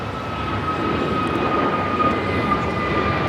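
Airliner on approach to LAX, arriving from Taipei on the north side, a steady broad jet roar that holds loud and even throughout with no voices.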